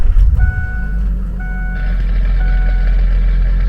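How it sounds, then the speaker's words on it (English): A 2003 Ford Excursion with the 6.0 engine cranks in a brief rough churn, then catches and settles into a loud steady idle, while a chime beeps repeatedly in the cab after sitting two to three years. "Let's see if she'll crank back up."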